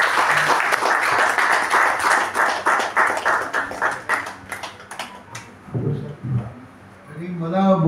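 An audience applauds a film crew at an event, with a dense burst of rhythmic clapping lasting several seconds before it thins out. A voice then begins speaking.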